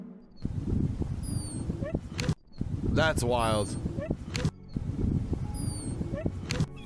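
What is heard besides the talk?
dog whimpering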